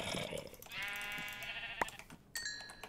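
Sheep in the video game Minecraft bleat twice, a drawn-out wavering baa followed by a shorter one, clear and close with no talking over them.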